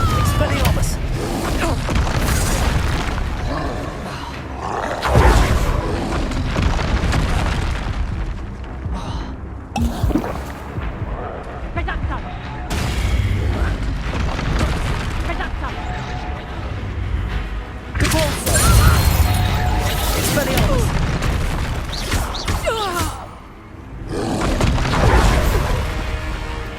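Confringo blasting spell explosions in Hogwarts Legacy, a rapid run of loud crashing booms and thuds with whooshing spell sounds between them, mixed with shouted incantations and talking throughout.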